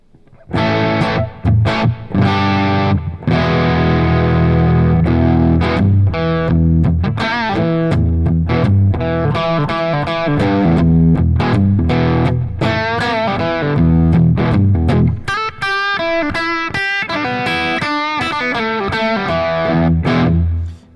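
An electric guitar plays through a REVV D40 Dynamis amp with the bright option engaged, giving loud, distorted riffs with sustained chords and quick muted stabs that run continuously and alone.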